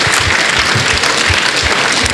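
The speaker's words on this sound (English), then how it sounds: "So please clap for yourself and for the dignitaries and faculty members here" Audience clapping at a society induction event, a dense, loud and steady burst of many hands with no voices over it.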